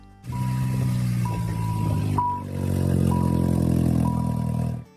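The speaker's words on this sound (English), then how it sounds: "Customer states, car sounds like an old truck," An engine runs rough and loud for a car said to sound like an old truck, with a deep rumbling drone and a brief dip in the middle before it roars on again.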